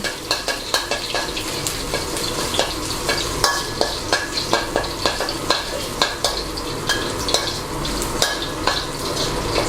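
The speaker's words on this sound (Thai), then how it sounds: "ผัดให้กระเทียมหอม" Coarsely chopped Chinese garlic stir-fries in oil, a bright sizzle punctuated by rapid, rhythmic clacks of a spatula against the pan, close and loud throughout with no voices.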